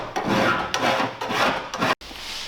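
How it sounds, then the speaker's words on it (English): A metal file cleans burrs off the cut edge of a sheet-metal opening for a roof fan in a high-roof Ford Transit van, making three close, rasping strokes before a brief silence. "We're going to go back through and clean the edges of our cut with a file."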